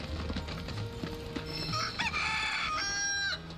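Chicken clucking and a rooster-like crow from Final Fantasy VII Rebirth, layered over steady game music and ambient sounds, fairly loud and continuous.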